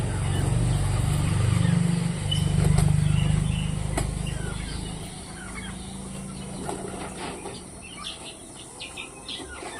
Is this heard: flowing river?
no